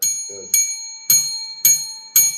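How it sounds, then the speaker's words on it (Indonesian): A bell is struck five times at an even, steady pace, each bright metallic strike ringing on briefly before the next. A short voice sound comes between the first two strikes. "Suruh pukul lonceng 5 kali."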